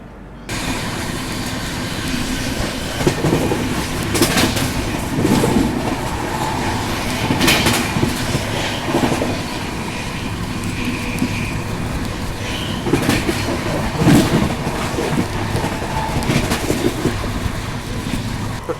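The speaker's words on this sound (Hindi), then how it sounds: "तो ट्रेन सूबेदारगंज से चल चुकी है, और अभी 130 की रफ्तार में ट्रेन जो है वो चल रही है" Inside the Subedarganj–Dehradun express running at 130 km/h, a loud steady roar of wheels and carriage rumble with faint rhythmic clicks and occasional squealing swells, continuous throughout with no talking.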